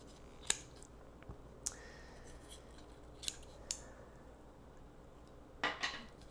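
Scissors snip through embroidery floss in a few separate, crisp cuts spread out over a quiet room, with one close double snip near the end.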